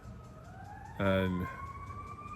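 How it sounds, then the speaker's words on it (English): A siren wails outside, heard as a steady rising tone carried through the whole clip, with a person's voice briefly breaking in over it midway. "we've got a siren going on here"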